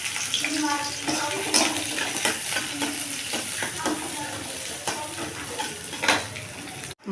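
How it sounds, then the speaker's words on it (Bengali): Chopped onion and green chili tipped into hot oil, giving a loud, steady sizzle with stirring scrapes throughout, close to the pan, ending in a brief cut near the end. "তেলটা গরম হয়ে গেছে, পেঁয়াজ কাঁচা লঙ্কা কেটে রেখেছিলাম, এটা দিয়ে দেবো"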